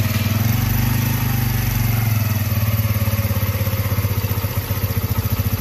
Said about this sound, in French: vous mettez le contact et je démarre.